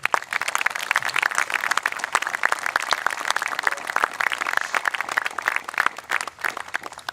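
Applause from the crowd at a 9/11 memorial service in Kitsap for VFW Post 239, dense and steady clapping from many hands that goes on for about seven seconds, with no speech over it.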